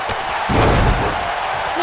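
A wrestler slammed down onto the ring mat at a Survivor Series 2019 elimination match, one heavy thud under a loud roaring arena crowd.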